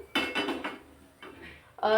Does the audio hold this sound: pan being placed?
yes